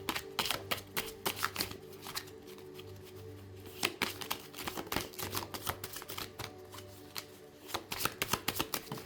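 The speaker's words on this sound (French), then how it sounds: "il y a trop de cartes. Elles sont jolies, mais elles sont dures à mélanger." A deck of tarot cards being shuffled by hand, rapid close-up riffling and flicking bursts repeating throughout, crisp and steady with no talk over it.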